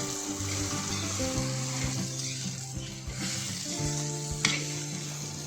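Sponge gourd and peanut powder masala sizzle in a pan while a spatula folds it gently, a continuous close frying hiss broken by soft scraping stirs and a brief clink.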